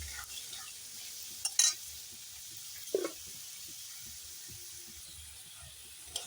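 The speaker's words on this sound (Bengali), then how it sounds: "দেখো আলু ভালো করে কষানো হয়ে গেছে" Potatoes sauté in a pan for ghugni under a quiet, steady sizzle and hiss, with a couple of brief spatula clinks and scrapes spaced apart, close by and without voices.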